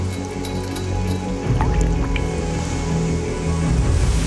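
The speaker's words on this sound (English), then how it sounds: "The fine mesh traps fog droplets, which merge, drip down, and collect as water." Fog droplets collected on a fine mesh drip down as water, heard as a steady wet patter and scattered drips over a low rumbling background, growing slightly louder partway through.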